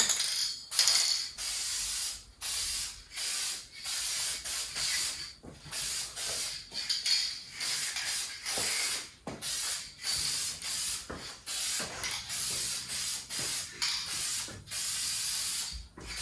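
Adhesion promoter is sprayed onto a Foxbody's quarter glass in a run of short, close, hissing aerosol bursts with brief pauses between them, with no voices.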